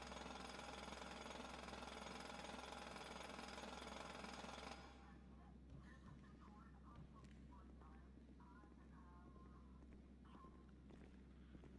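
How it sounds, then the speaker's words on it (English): A construction drill chatters loudly and continuously in a GTA roleplay video game, then cuts out after about five seconds, leaving faint footsteps and background sounds. "Do you hear a drill?"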